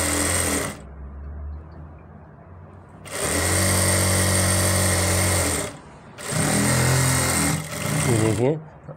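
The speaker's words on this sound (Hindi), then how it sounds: "बीच से पकड़ेंगे यहाँ से और ऐसे सिलाई लगाएंगे" Sewing machine stitching a ladies' pant, running in three loud sustained bursts of rapid whirring with pauses between, close by, with a voice speaking during the pauses.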